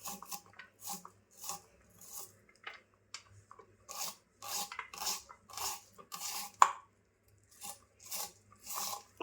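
Knife chopping onion, carrot and tomato finely on a board for a salad, a steady run of close, crisp cuts in short bursts with brief pauses, no talk.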